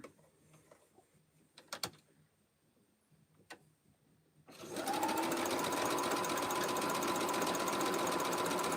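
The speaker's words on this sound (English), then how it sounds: "Sew to the middle, make sure my other half, because we're working with bias, the other half can just turn up." A sewing machine runs steadily and loudly, stitching a quilt star block on bias-cut fabric, after a quieter stretch of faint handling clicks and soft rustle before the motor starts.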